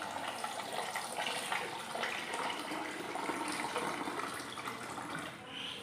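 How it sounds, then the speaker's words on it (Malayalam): Water pours steadily into lemon juice for homemade lemonade, a continuous close splashing and gurgling that holds for several seconds and softens slightly toward the end. "ഞാൻ ഇത്രയും വെള്ളം ഇതിനകത്തോട്ട് ഒഴിച്ചു കൊടുത്തു"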